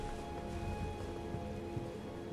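Steady, soft rain in Elden Ring, a continuous even wash of falling drops with a faint low hum beneath and no talking.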